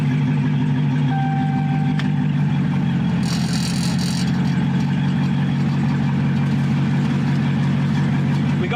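A Hellcat-engined Plymouth Cuda making about 800 horsepower runs on its maiden drive, its deep steady engine drone rumbling continuously and loudly at low revs, with a brief higher hiss partway through.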